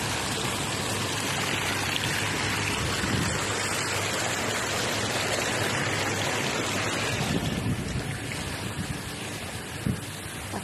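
Water running steadily from a hose or tap while cleaning the surroundings outdoors, a continuous broad rushing hiss at moderate level with no talk.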